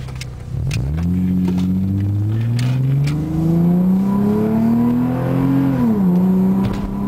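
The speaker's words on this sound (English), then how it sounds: "You guys are gonna hear the intake and the muffler right now." An Acura RL fitted with a Remus catback exhaust and aftermarket intake revs close up, its deep engine note rising steadily, dipping, then climbing again, loud and alone.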